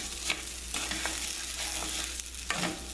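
Vegetables seasoned with salt, pepper and dried herbs fry in a pan with a steady close sizzle, broken by several sharp scraping strokes of a utensil stirring them.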